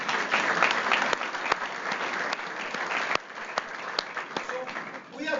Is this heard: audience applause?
yes